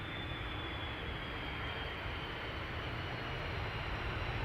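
Broad, steady roar of an airplane landing at Amsterdam Schiphol Airport, a loud, sustained engine and air rush holding constant throughout with no voices.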